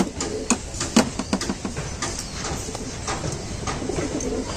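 Several pigeons coo softly and repeatedly close by in a loft, with occasional wing flutters and light shuffling in the background.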